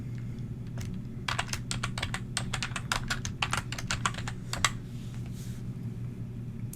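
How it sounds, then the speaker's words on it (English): Fast, irregular clicks of typing on a computer keyboard, close and moderately loud over a steady low background hum, pausing briefly near the start and end. "just type in whatever it is you want to name your project"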